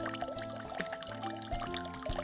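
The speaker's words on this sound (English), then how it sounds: "A spring in the middle of a forest." Water flowing from a spring in the middle of a forest, a continuous pouring and trickling sound that carries along steadily, close and moderately loud, with no voices.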